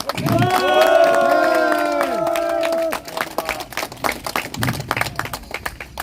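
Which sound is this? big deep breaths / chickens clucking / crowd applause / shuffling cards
crowd applause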